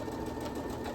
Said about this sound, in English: now we are actually going to stitch the ends together here